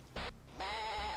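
Goat-head voice profile from a video game mod, a short synthetic goat bleat followed by a longer, wavering, nasal bleat, heard alone and fairly clear.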